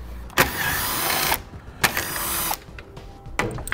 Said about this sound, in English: Now we're going to remove the four 10 millimeter bolts